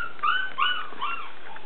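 Standard poodle puppies give three or four short, high whimpering yips close by in quick succession.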